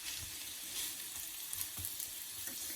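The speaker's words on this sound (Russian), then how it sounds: "И пусть теперь это все обжаривается до готовности." Honey mushroom soup vegetables, including carrot, sizzle and fry in a pan with a steady close hiss and occasional soft pops and stirring sounds.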